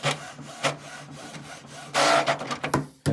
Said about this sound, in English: Once you're done, you're going to press the print button